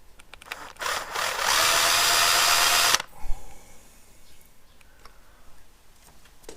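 A power drill bores a 12 mm hole through thick metal, one loud sustained grinding burst of about a second and a half that stops abruptly, followed by faint clicks and handling noise.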